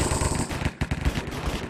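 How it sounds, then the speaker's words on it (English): Rapid bursts of video-game gunfire from an MP5 submachine gun and other weapons in a Hypixel online shootout, dense overlapping shots crackling loudly and continuously with no voice over them. "You probably can't hear me over all this gunfire"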